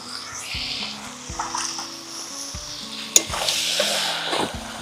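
Food fries in a pan at an outdoor winter-evening duck picnic, with a continuous hissing sizzle, repeated stirring scrapes and one sharp metallic clank, all over a low droning hum.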